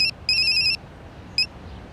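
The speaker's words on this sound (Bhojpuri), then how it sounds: "अरे फोन आइल बा, उठाई।" A telephone ringtone chirps in bright electronic bursts: a short blip, a longer trill, then another brief blip after a pause, alone over quiet room noise.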